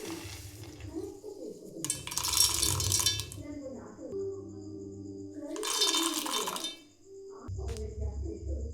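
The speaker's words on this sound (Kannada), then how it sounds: "ಈಗ ಇದಕ್ಕೆ ಎಲ್ಲ ಶೇಂಗಾ ಹಾಕೋತೇನೆ." Peanuts poured into a steel mixer jar for North Karnataka peanut chutney powder, two bursts of dry rattling clatter in a home kitchen, with a voice talking between them.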